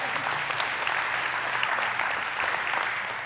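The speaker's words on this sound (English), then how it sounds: "let me hear a hand clap of praise to Jesus." A church congregation claps continuously and loudly in praise, many hands together, with no voices over it.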